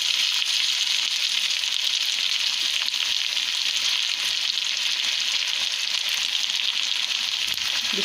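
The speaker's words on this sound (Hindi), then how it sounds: "इसको अच्छे से मिक्स कर लेंगे।" Beef karahi with chopped green chili, ginger, coriander and squeezed lemon sizzling in a pan, a dense, even hiss that holds steady throughout, close by and free of speech.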